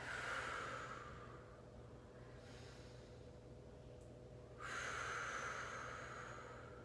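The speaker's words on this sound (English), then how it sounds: "And exhale." A slow, deep yoga exhale through the nose, a long breathy rush that fades out, then a second breath rises again near the end, close and quiet with no talking.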